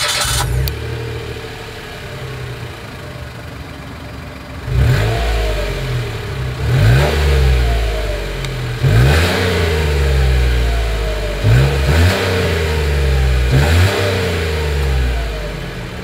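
A 2022 Mitsubishi Mirage G4 subcompact sedan's exhaust, heard near and alone: steady idle broken by several sharp revs that climb and fall back, spaced a couple of seconds apart.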